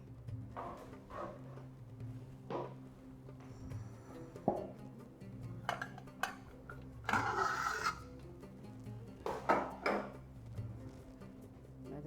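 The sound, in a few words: pressure cooker grabbed and placed on work surface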